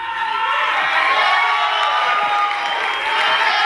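Texas crowd at a boxing event cheering for Nate Diaz, a loud sustained roar of voices and applause, steady and unbroken throughout, with no distinct speech above it.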